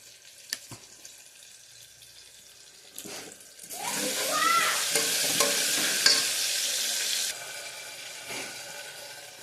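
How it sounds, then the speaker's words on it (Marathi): Mixed vegetables for a vegetable pulao hit hot oil and sizzle loudly for a few seconds while being stirred, after some quiet clinks, then the frying fades to a softer hiss. "सगळे मिक्स व्हेजिटेबल त्याला फ्राय करून घ्यायचे. मिक्स करून घ्यायचे चांगल्यापैकी."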